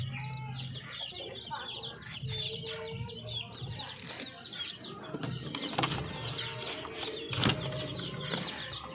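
Darag native chickens on a farm in Nueva Ecija cluck and chirp in a busy flock, with overlapping calls and soft peeps, fairly faint, and an occasional louder cluck rising above the rest.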